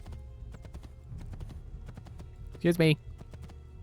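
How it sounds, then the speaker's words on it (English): Horse hooves clip-clopping at a steady trot in the Assassin's Creed video game, a rhythmic clatter under a brief spoken remark in the middle. "I'm on a horse"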